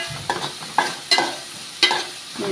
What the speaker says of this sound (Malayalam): ഉള്ളി ഏകദേശം വാടി വരുന്നുണ്ട്.